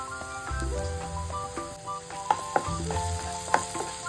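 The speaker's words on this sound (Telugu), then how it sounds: "కొబ్బరిని కూడా ఆయిల్లో కొంచెం ఫ్రై చేసుకోవాలండి." Coconut powder and turmeric fry in hot oil in a pan, giving a steady close sizzle with scattered crackles and a few sharp pops, no talking.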